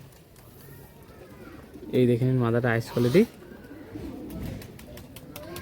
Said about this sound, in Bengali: দাদার কাছে এইসব পায়রা ফ্লাইং করে